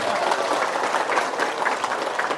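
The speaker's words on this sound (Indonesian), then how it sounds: "Tepuk tangan." Lively clapping from a crowd at an Indonesian community gathering, a steady, busy patter of many hands at close range, fairly loud and continuous throughout with no talk over it.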